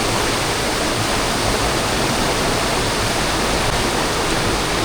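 Keralamkundu waterfall in Malappuram, a loud, unbroken roar of falling water heard up close, broadband and constant with no variation or voices over it.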